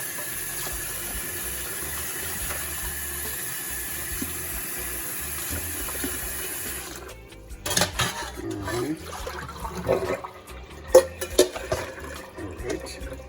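Beef pieces are rinsed under running tap water in a sink, a steady stream that then breaks into irregular splashes and clatters as the meat is handled. Faint talk sits in the background.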